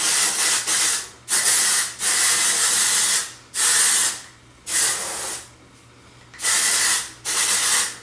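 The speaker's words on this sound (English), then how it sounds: "now what I do is I spray this everywhere." Hair spray or styling mist sprayed in repeated short hissing bursts of about a second each, separated by brief pauses, close and loud with no talking.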